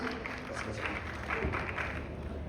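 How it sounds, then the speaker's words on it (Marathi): Loud applause welcoming actor Abhijeet at a trailer launch event, a steady wash of crowd clapping that carries on throughout under a voice speaking. "एकदा नवरा मुलगा आला तर जोरदार टाळ्या अभिजितसाठी"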